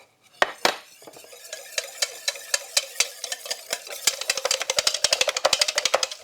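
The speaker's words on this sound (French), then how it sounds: "On va le fouetter légèrement pour casser le blanc" Egg white being whisked with icing sugar in a bowl for a cream puff glaze, a few slow taps at first building into a fast, steady run of sharp metallic clicks, close and clear with no talking.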